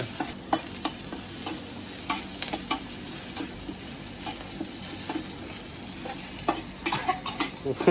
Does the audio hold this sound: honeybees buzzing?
no